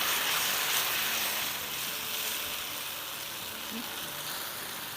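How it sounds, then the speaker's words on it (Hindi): Yogurt and spice masala frying in a pan for a rich shahi-style curry, a steady soft sizzle and crackle that tapers slightly after the first second, close and continuous with no voices. "अब जब तक भूनेंगे जब तक इसका मॉइस्चर दही का ख़त्म ना हो जाए"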